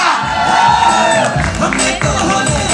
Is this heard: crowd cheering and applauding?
yes